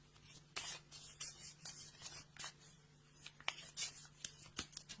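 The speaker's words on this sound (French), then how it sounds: "On va prendre une carte du tarot du bien-être de femme actuelle." Tarot cards from a women's wellness deck shuffled and handled close by, a quiet run of soft rubbing, sliding and flicking strokes in uneven bursts, with no voices.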